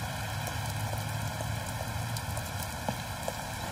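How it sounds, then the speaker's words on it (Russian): Heavy rain pours down in a steady, continuous downpour, a dense rushing wash of drops that holds at an even loudness throughout, with no voices. "Слушай, это такой ливень, я тебе из подъезда перезвоню"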